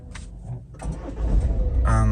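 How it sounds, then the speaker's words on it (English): A 2014-2018 Ford Kuga 2.0 TDCi diesel cranks briefly, catches, and settles into a loud, close clattering idle. "All you need to do is start the engine"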